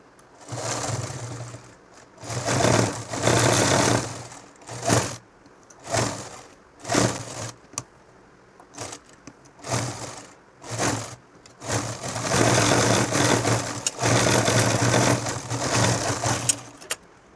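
A home sewing machine stitches a nightie, running in several bursts of a few seconds each with short pauses between, then one long steady run near the end, close and clear with no talking.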